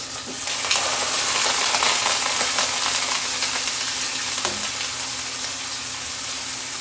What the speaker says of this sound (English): Then I'm going to go ahead and add my pork chops.